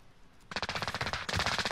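Automatic gunfire in the video game Call of Duty Warzone, a short rapid burst, a brief pause and then another sustained rattling volley, loud and close.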